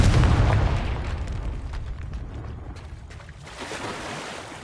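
A Confringo blasting spell goes off in Hogwarts Legacy with a loud, booming explosion whose rumble slowly decays and thins across several seconds.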